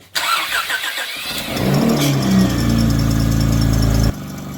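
A loaner car with freshly replaced front lower control arms and topped-up power steering fluid cranks briefly, catches and settles into a steady, close idle with a low rumble, alone with no talk.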